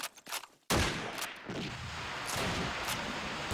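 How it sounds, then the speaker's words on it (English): Grenade blasts and gunfire in the Call of Duty 2 Dawnville map. A few sharp pops open the clip, then a loud explosion hits and leaves a sustained roar of fire and blasts with scattered cracks. "Nades are coming out."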